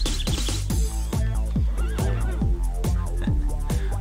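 A horse in a video game neighs in a loud, shaky whinny over a steady pounding beat of thumping game sound.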